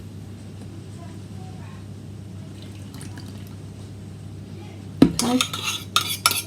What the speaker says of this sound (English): and then we're going to whisk it up